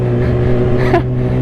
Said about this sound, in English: He's revving his throttle on his bike.